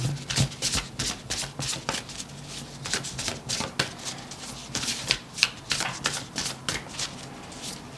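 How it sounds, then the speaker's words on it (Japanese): Oracle cards being shuffled by hand, a close, steady run of crisp riffling and slapping bursts that repeats for several seconds with almost no talk. "ちょっと最後にオラクルカードも見させてください。"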